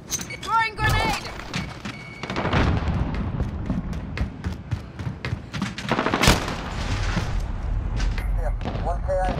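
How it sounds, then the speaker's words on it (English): Grenade explosion and gunfire in Call of Duty Modern Warfare, rapid shots and booming blasts crowding together, with a heavy explosion partway through and voices talking over the combat. "Throwing grenade!"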